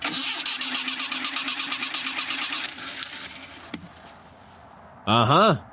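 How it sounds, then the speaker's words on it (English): An old Coca-Cola truck engine, abandoned for 40 years, cranks in a rapid rhythmic chug for about three seconds, then stops without catching; a brief rising whine follows near the end. "Sounds like the engine wants to start"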